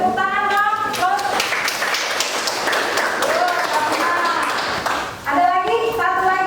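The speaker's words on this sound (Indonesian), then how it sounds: "Beri tepuk tangan dong." Students in a classroom clap together in applause, a steady busy patter of many hands heard over children's voices and a speaking voice.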